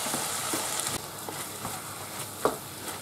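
Ground beef frying in a pan with parsley and oregano, sizzling steadily while being stirred, with a few soft scraping knocks; no talking.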